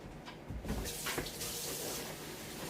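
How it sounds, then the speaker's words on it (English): Water from a faucet runs steadily into a sink while a hash washer bag is rinsed, a close, continuous splashing hiss that changes slightly in tone as the bag moves under the stream, with no talk. "Rinse the rest off into the sink."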